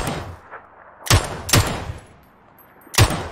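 Three sharp, loud gunshots crack out at about 1.1, 1.6 and 3.0 seconds in the PUBG battle royale game. Quieter background noise fills the gaps between them, and nobody speaks.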